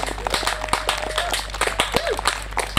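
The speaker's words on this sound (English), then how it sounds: "So definitely a massive round of applause for him too." Festival audience giving a round of applause outdoors, scattered claps heard fairly close alongside a low steady hum and brief voices.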